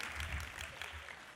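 Brief, faint applause from an audience at the 36th Annual Mayor's Arts Awards ceremony, a steady wash of clapping throughout the short moment.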